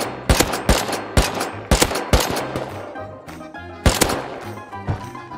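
Rapid bursts of gunfire in the survival game Rust, loud close shots in quick clusters with pauses between, a sharp volley near the end, against a low game rumble.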